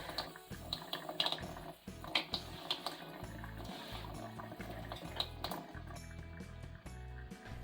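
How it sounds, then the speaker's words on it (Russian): Running tap water splashes into a sink as a sponge and the basin are wetted, a quiet, close, continuous watery flow with small irregular splashes and drips. "Смачиваю губку и раковину водой."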